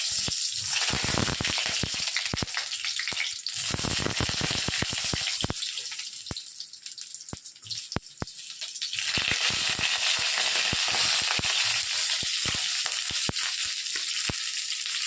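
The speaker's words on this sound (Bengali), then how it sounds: "তেলটা গরম হয়ে গেছে, এবার আমি পটলগুলো ছেড়ে দিই।" Pointed gourd pieces fry in hot oil, a loud bubbling hiss that dips briefly in the middle and then swells again, with scattered clicks and knocks of a utensil.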